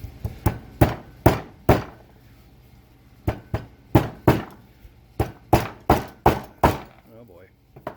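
A rubber mallet strikes the carburetor of a 1978 Suzuki PE 250 motorcycle during restoration, a series of sharp knocks in quick bursts with short pauses, close and loud in a workshop.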